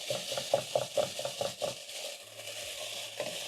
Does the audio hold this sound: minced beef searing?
yes